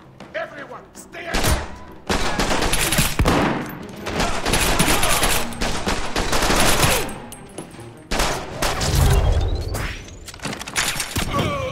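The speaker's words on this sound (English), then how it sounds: "I have gunshots coming from the mess hall!" Gunfire from The Bourne Conspiracy video game, loud bursts of shots and heavy thuds through most of the stretch with sustained automatic-fire textures, mixed with game sounds and voices.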